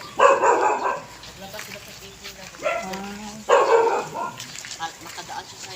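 Several dogs barking outdoors during a walk, loud bursts of barking in two or three bouts with people talking in between.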